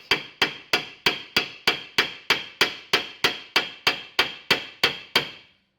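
A hammer strikes a metal car subframe about fourteen times in an even, brisk rhythm, each tap sharp and ringing briefly, close and fairly loud with no voices.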